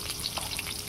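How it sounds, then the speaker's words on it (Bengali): Chopped onion sizzles in hot mustard oil for an eggplant and prawn curry, a close, continuous crackling fry with soft stirring scrapes and no voices. "আবারও সরিষার তেল দিয়ে দিলাম। দিয়ে দিচ্ছি পেঁয়াজ কুচি"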